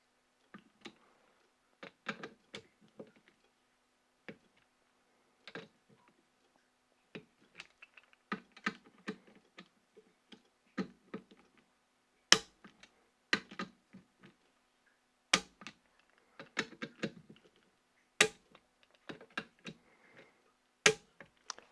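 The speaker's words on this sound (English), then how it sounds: "I'm just going to tighten these slowly" Torque wrench tightening the scope rail screws on a Remington 700 rifle to 20 inch-pounds: sparse, crisp small clicks and ticks in short irregular clusters, close and quiet against near silence, with no talking.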